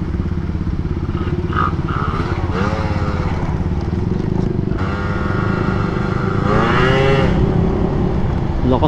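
Small scooter engine with modified port timing revving steadily and loudly throughout, a continuous buzzing drone with rising and falling pitch sweeps as the throttle varies, close by.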